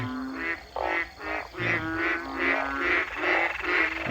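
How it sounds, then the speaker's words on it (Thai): Narrow-mouthed frogs croak in a rapid, pulsing chorus, several nasal calls overlapping close by against a faint night background. "นี่เสียงอึ่งห้องอยู่พี่น้อง"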